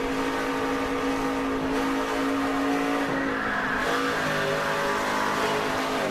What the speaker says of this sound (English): You heard the tires start squealing there when he lost control of the back of that truck.